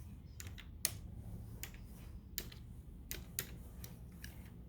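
Quiet keystrokes tap on a computer keyboard in an irregular, sparse rhythm of single clicks, close but faint, with no talking.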